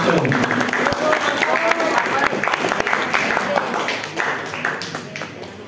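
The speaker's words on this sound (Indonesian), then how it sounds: "Berikan tepuk tangan yang meriah untuk Regu A dan C." An audience at an Islamic quiz competition breaks into lively applause, a dense wash of clapping that holds strong before slowly thinning out, with voices mixed in beneath.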